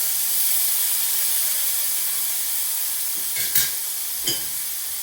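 Veal searing in a hot pan gives a steady, bright sizzling hiss throughout, with two short clattery bumps near the end as the pieces are flipped; no talking.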